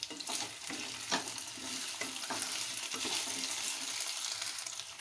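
Potatoes frying in a pan for aloo gobi matar sabji: a soft, continuous sizzle with intermittent stirring scrapes, fairly quiet and steady with no talk.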